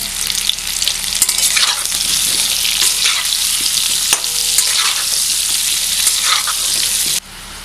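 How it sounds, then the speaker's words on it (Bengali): Potatoes fry in hot oil with a pinch of turmeric for a Bengali-style mutton curry, a dense, loud, steady sizzle with scraping stirs. The sizzle cuts back sharply near the end, with no talk. "আলুগুলো ভাজা হয়ে গেছে"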